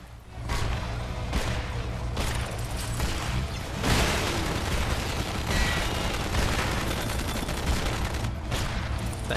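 A robot in the Shoot Many Robots video game fires steadily, giving loud, rapid gunfire bursts with sharp booming hits over a constant clattering din of combat.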